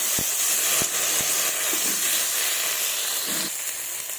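Fish curry masala with chopped tomato sizzling in a pan as a little water goes in, a steady close hiss with a few sharp clicks and spatters.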